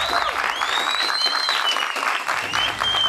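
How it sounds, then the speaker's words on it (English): A studio audience at a talk show breaks into sustained, even applause, dense clapping filling the room at full volume throughout. "Let's give them a round of applause."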